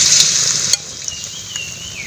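Glutinous rice fritters (godok ketan) coated in batter fry in hot oil, giving a loud, close, steady sizzle that drops to a softer crackle partway through.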